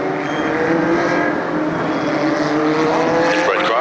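Legends race cars roar around Stafford Speedway during a spring feature race, a dense, steady pack of engine noise with rising and falling pitches as cars pass close by, continuous and loud throughout.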